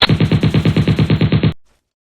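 Automatic gunfire in the video game Free Fire: a rapid, steady burst of about a dozen evenly spaced shots, loud and close, cutting off abruptly into silence.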